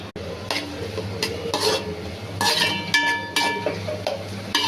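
Spring onions, capsicum, carrot, green peas and meal maker chunks are stir-fried in ghee, with a loud sizzle broken by repeated scraping and clinking of a spatula against the pan in quick, uneven strokes.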